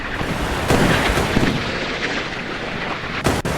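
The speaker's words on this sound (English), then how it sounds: "Wow, look how much gunfire is going out." Naval gunfire from warships in the naval combat game Sea Power, heavy booming shots and rumbling blasts coming in irregular bursts, fairly loud with a sharp crack near the end, no voices.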